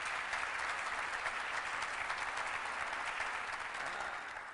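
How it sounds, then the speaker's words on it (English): Audience at a downtown revitalization announcement applauds a state delegation, dense steady clapping from a crowd, tapering off slightly near the end. "Let's give our state delegation a round of applause as well."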